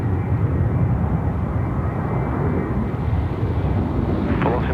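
A Virgin airliner departs Sydney Airport bound for Brisbane, its jet engines a broad, steady roar heard from a distance, mixed with some wind buffeting on the microphone.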